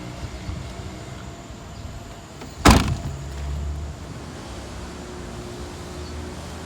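The trunk lid of a 2021 Nissan Almera Turbo 1.0 VLT slams shut with a single sharp, loud thud and a brief low rumble after, against steady quiet outdoor background noise, no talking.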